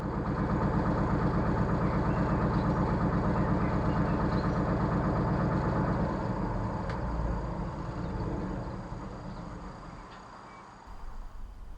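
A narrowboat's diesel engine chugging steadily on a canal, a rhythmic low throb that holds for several seconds, then fades and softens as the boat slows toward the bank.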